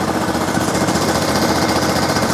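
A DiamaPro ROG-60 engine idles up close, a loud, steady, rapid mechanical chatter with even pulsing throughout, no talking over it.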